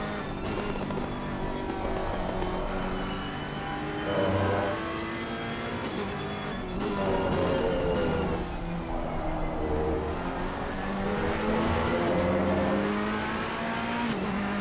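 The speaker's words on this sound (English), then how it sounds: "Porsche gets out that last corner on acceleration pretty good." A Porsche race car accelerates hard out of the last corner at Laguna Seca during an eight-hour endurance race, its engine note climbing steadily and loud throughout, with other cars' engines blending in the background.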